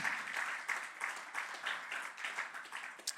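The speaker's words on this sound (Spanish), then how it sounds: "Un aplauso al Señor Jesús" A church congregation at a Spanish-language sermon applauds, a continuous, fairly soft wash of many clapping hands that swells and dips slightly without pause.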